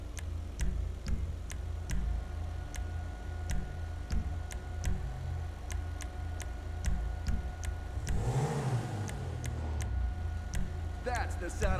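In GTA 5, a fully modified Ubermacht Zion Cabrio engine swells into a brief, rising rev near the end, set against steady ticking and a low engine hum. A person talks over much of it.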